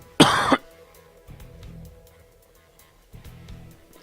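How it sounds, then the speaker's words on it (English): A single sharp cough from a streamer commentating a StarCraft match, close and loud at the start, followed by low muffled background sound with no talk. "I missed my mute button there before I coughed on a bit."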